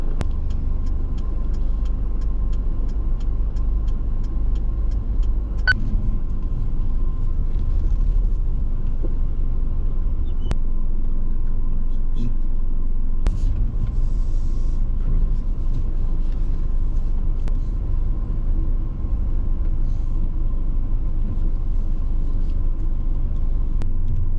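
A car is driven along a road, its steady low engine and road rumble running continuously with no pauses, plus a few faint clicks along the way.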